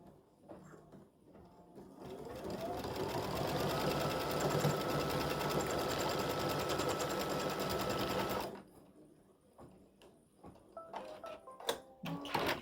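An embroidery machine stitches out an appliqued St Patrick's Day gnome design, its rapid steady needle chatter ramping up and holding for several seconds before stopping, followed by light clicks and handling noises.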